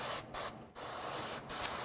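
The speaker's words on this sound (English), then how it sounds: "Are you spraying water out of your airbrush? I'm spraying a sepia wash." An airbrush spraying a sepia wash onto miniatures, a close hissing spray broken by three short pauses as the trigger is released and pressed again.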